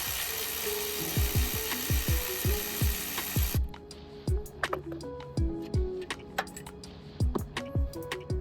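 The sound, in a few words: ratchet undoing alternator top bolt on 2006 Honda CRV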